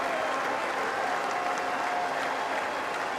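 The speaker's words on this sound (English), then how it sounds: "Now listen to this applause." A cricket crowd applauds a batsman reaching his fifty in a T20 international between West Indies and England, a steady, dense wash of clapping that holds evenly throughout without a clear break.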